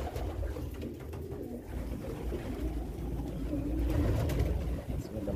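Pigeons on an Egyptian pigeon farm, birds on the ground and brooding over eggs, cooing in soft, overlapping low calls, close and steady throughout, over faint background rumble with no talking.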